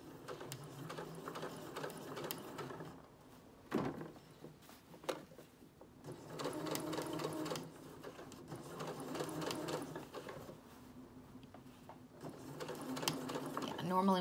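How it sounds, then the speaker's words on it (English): A sewing machine stitches binding onto a dress, its needle chattering in a fast steady rhythm that runs in long stretches with brief pauses, close by while a person talks over it. "normally when I sew binding on, I put it right there up against the edge"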